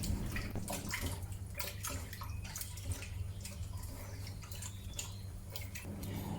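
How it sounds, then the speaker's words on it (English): Seitan dough squeezed and kneaded by hand in a bowl of water, giving continuous close sloshing, dripping and squelching with no talking. "Continue the squeezing process until the water becomes milky again."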